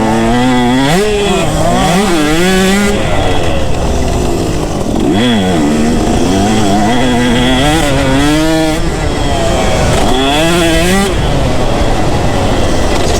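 A KTM or Husqvarna 125 two-stroke dirt bike engine screams at hard throttle, loud and close, its pitch climbing and dropping repeatedly through gear changes with no pause.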